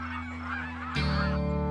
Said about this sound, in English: Yes! Geese! Oh, whoa, whoa! Whoa, whoa, whoa! The geese are coming!